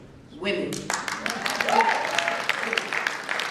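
Sparse applause at a civil court judge induction ceremony breaks out suddenly and continues thinly beneath a speaking voice.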